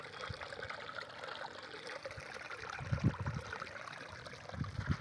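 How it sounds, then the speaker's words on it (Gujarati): Shallow water trickling along a roadside footpath on the way to a Khodiyar temple, a soft continuous babble with a few louder splashy gurgles toward the end. "રસ્તામાં આવી ગયું પાણીનો વેકરો ને જો કેવું સુંદર મજાનું પાણી વહેર્યું"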